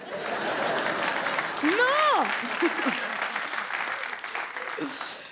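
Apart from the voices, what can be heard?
audience applause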